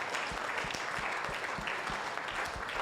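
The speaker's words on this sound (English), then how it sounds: "Now take your name and clap for yourself because you are also participating." A small group at a sharing session claps, with a soft, fairly distant patter of applause and a few sharper individual claps keeping an uneven rhythm throughout.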